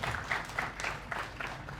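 Audience applause for Pak Agus Nur Amal at a cultural lecture event, a short burst of clapping from a gathered crowd with uneven pulses, fairly close and moderately loud.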